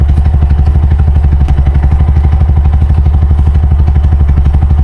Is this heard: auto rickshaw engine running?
yes